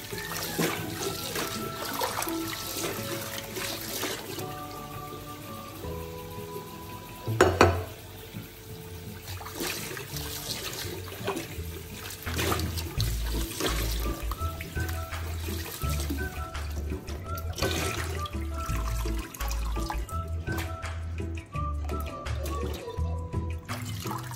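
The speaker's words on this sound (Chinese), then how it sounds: "一直洗至水清澈，这步骤很重要，只有将淀粉洗净，油炸后才会香脆。" Sliced potatoes rinsed under running water to wash off their starch, a steady tap stream splashing continuously with faint kitchen clatter, close and unbroken, no talking.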